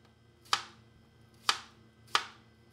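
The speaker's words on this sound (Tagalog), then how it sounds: "hiwain ko na rin tong pipino" A knife slices through a medium-sized cucumber onto a cutting board, three crisp isolated chops spaced about a second apart, near and clean against a quiet background.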